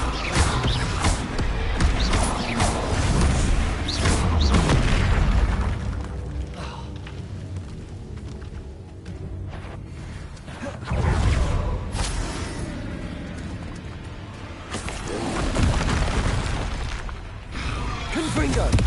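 Repeated Confringo blasting-spell explosions in Hogwarts Legacy gameplay, loud booming bursts with crashing, shattering debris and whooshes that swell and fade in several waves, with a voice speaking over parts of it.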